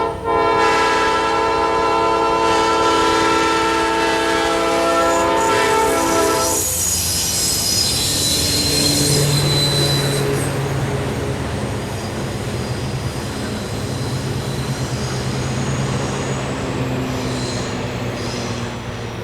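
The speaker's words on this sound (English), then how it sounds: "Here we see Norfolk Southern number 1358, slug number 9720, and Southern number 5320," A westbound Norfolk Southern freight train with a caboose, led by locomotives and a slug, passes at close range with a long horn blast, then a steady roar of rolling wagons and squealing wheels.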